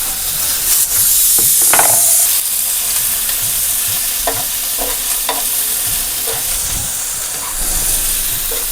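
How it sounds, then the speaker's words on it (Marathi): Tomatoes roast in a pan for a Marathi-style mutton rassa, giving a steady close sizzle and hiss with a few sharp crackles and scraping stirs throughout. "तर टोमॅटो भाजून घेऊया"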